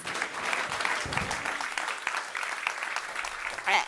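An audience applauds steadily at a talk on food security and climate extremes, a dense wash of many hands clapping at moderate loudness with a brief louder swell at the very end.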